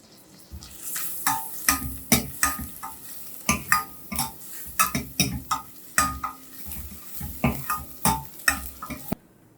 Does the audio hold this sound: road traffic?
no